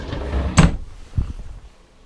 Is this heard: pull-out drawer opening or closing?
yes